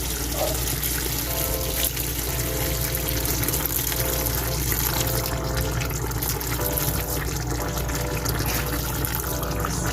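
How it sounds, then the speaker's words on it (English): Steady stream of water pouring into a pot of Jamaican curry goat, a continuous even splashing and trickle with no talking. "now I'm going to add ½ cup of water"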